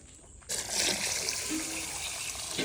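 Water pours from a vessel onto washed rice set to soak for ghee rice, starting abruptly after a quiet moment and continuing as a steady, close splashing gush.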